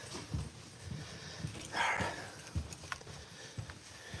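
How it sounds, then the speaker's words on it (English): A small dog whimpers and yips indoors on a rainy day, a brief higher whine standing out above low thumps and household background noise. "How cute is that dog?"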